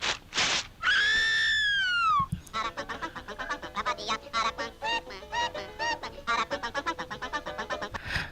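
The Aracuan bird from a Disney cartoon sings its peculiar song: a long sliding, whistled cry followed by a burst of rapid, jittery chattering and warbling notes that carries on to the end.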